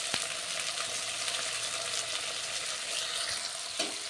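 Onions and soaked peas sizzle steadily in a hot pan while a utensil stirs them close by. Faint scraping and clinks rise above the constant crackle of frying, and one sharp knock sounds near the start.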